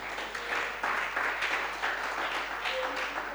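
A church congregation applauding in praise, a brief burst of many hands clapping in a steady wash, moderately loud and fairly close, with a voice faintly mixed in.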